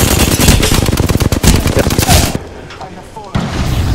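Rapid automatic gunfire in the Apex Legends video game, loud and close, with dense bursts of shots for about two seconds, then a short pause before another shot, over occasional player chatter.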